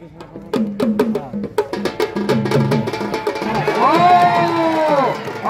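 Spectators at a village kushti wrestling bout clap in sharp bursts, then break into loud shouting and cheering that swells toward the end, with voices over the crowd.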